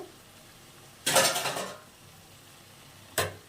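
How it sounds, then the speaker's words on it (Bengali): A lid lifted off a pot of cabbage ghonto, a close metallic scrape and clatter lasting under a second, followed a moment later by a second short clank, set against a quiet kitchen background with no talking. "এবার আমি ঢাকনাটা খুলে দেবো"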